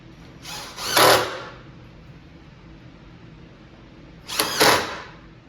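A power drill drives screws into the side rail of an arcade cabinet in two short, whining bursts a few seconds apart, close and fairly loud with quiet between.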